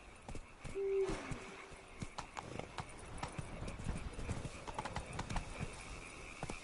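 Horse hooves clip-clopping at a steady canter in the Witcher video game, set in a medieval fantasy world, with a brief whinny early on and faint ambient game sound underneath.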